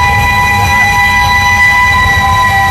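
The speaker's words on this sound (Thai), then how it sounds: "มาเลยครับนะขบวนรถไฟหัวจักไอน้ำนะครับ" A World War–era steam locomotive train in Thailand passes close and loud, giving a steady heavy rumble with sustained high whistle-like tones ringing above it.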